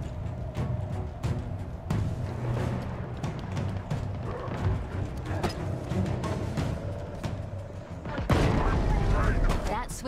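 Halo Infinite combat, with repeated sharp gunshots and booming explosions scattered through a busy battle, a heavier blast rumbling near the end, and someone talking over the action.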